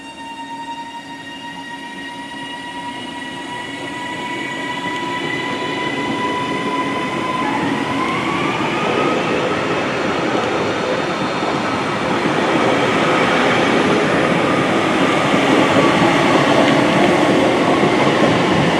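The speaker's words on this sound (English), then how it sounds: "it's actually coming on platform 1 and it's going to leave on platform 1 towards Manchester and Blackpool North today" A Northern train pulls into platform 1 at Hazel Grove bound for Manchester and Blackpool North, its rumble building steadily and a sustained tonal whine rising then shifting in pitch as it draws close, with no talk.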